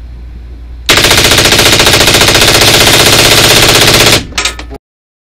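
An Infinity 16 rifle fires a fast, continuous burst of shots for about three seconds. The shots are loud and close and stop abruptly, followed by a few faint mechanical clicks and then silence.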